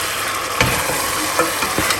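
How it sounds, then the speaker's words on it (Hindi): Food frying and sizzling in a pan, with a steady loud hiss and a few soft scrapes of a stirring utensil. "तो इनको ज़रा सा हिलाते हैं"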